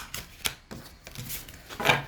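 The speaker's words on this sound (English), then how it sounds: "So I'll give it another couple of shuffles" Celtic Oracle Crystal oracle cards with a glossy finish being shuffled in a few quick bursts, soft papery riffles and taps close by, with no talking.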